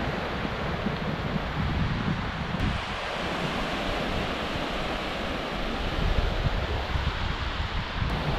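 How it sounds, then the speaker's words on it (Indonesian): Ocean surf breaks along a beach where people fish from the shore, a steady broad wash of waves mixed with strong wind buffeting the microphone, with no talk. "Dan ombak dia pun mulai sedikit lah ombak dia."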